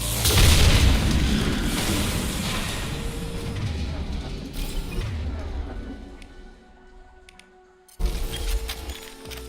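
Tanks blowing up in Mass Effect 2, a heavy booming blast that rumbles and slowly decays over several seconds, then a second sharp burst near the end.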